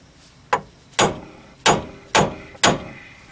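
A small fiber hammer taps a nut on its threads while a car's power steering and stabilizer parts are being removed: five distinct, close, sharp knocks at uneven intervals, each with a short ring-off.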